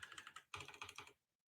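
Quick bursts of typing on a computer keyboard while writing web app code, a close rapid clatter of keys in two short runs separated by a brief pause, then quiet.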